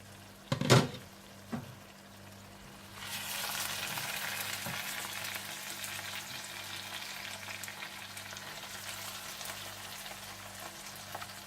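Fish curry simmering gently on very low heat, a steady soft sizzle and bubbling that rises after a few brief clatters at the start and continues evenly at a low level.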